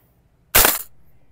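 A single sharp airsoft shot from a Cybergun Colt, loud and close with a short decaying tail, standing alone against a quiet background.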